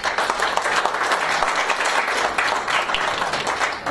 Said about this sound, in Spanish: Por favor, un aplauso para la doctora Teresa.